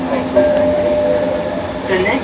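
Ride aboard a SkyTrain metro train, with a steady rumbling hum and a tonal whine from the moving car, and a voice speaking over it.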